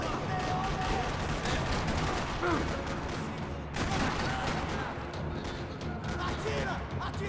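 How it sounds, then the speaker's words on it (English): Gunfire ringing across a parking lot in Max Payne 3, dense overlapping bursts and rattling shots that run continuously at close range with loud crashing impacts and no clear pauses. "Another parking lot rattling with gunfire."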